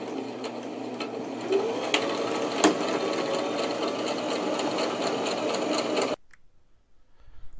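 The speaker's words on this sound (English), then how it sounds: "with the canvases facing together and sew this along here" A sewing machine stitches a seam through canvas and fleece layers for a messenger bag, running steadily and loud for about six seconds before stopping abruptly, followed by faint handling noise.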